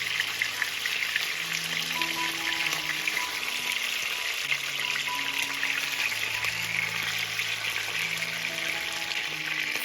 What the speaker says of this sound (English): I just want to fry the outer layer of them to make them to become firmer